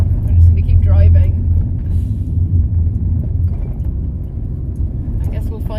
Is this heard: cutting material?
no